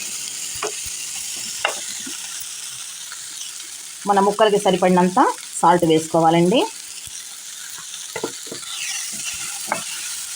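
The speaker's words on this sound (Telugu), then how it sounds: "వీటిని చక్కగా అటు ఇటు కాస్త వేయించుకోవాలి" Capsicum and potato pieces sizzle in a tempered oil pan and are tossed and stirred with steady scraping, a soft continuous fry underneath, while someone speaks briefly in the middle.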